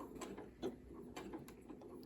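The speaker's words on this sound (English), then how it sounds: "So let's start stitching." A Janome Memory Craft 8200 QCP sewing machine stitches fabric with a quiet, rapid mechanical ticking and whirring, faint and steady with no voices.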